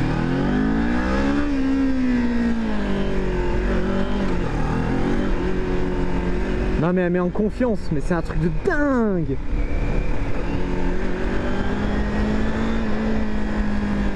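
A 2023 Kawasaki Ninja 400 KRT motorcycle engine drones and revs steadily while being ridden, its pitch rising and falling with the throttle, with a rider talking over the engine the whole time.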